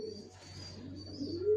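A pair of tagged, vaccinated black checker racing pigeons coo softly and close by in a brief, quiet burst, with a low rising call at the end over a steady hum.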